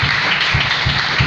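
Church congregation applauding together in praise during a French-language service, a steady dense wash of clapping with a pulsing low rhythm throughout.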